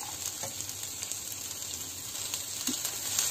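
Chopped capsicum and a large onion sizzle in a hot pan, a steady soft frying hiss with faint crackles throughout and no talk.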